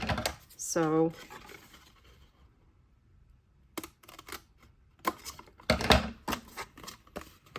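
Long-bladed scissors cutting through card paper along a mountain fold, a few close crisp snips and scrapes after a brief spoken word.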